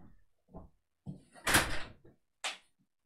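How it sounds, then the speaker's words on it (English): A door opened indoors: handle clicks and a sliding rattle and bump in short bursts, then a sharper knock near the end, with brief quiet gaps between. "I'm going to just open the door super quick."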